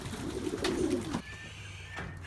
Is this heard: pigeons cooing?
yes